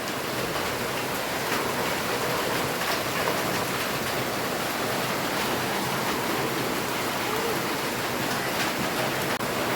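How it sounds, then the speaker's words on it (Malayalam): Heavy rain pours down in a dense, unbroken hiss, loud and steady from start to finish with no other sounds. "രാവിലെ തന്നെ മഴയാണ് നല്ല മഴ എന്ന് വെച്ചാൽ നല്ല പെരു മഴയാണ്"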